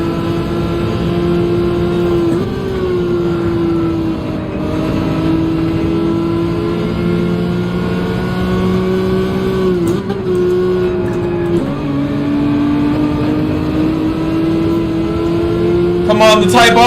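A Honda Type R race car in Gran Turismo 7 drones steadily at high revs, its engine pitch rising and dropping sharply at a few gear changes. A voice talks over it.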